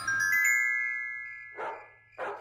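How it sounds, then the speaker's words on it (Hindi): Rocket, a dog in a cartoon, barks outside at night: two short, sharp barks come after a faint tinkling tone, with no talk. "मुझे बाहर रॉकेट के भौंकने की आवाज आ रही है।"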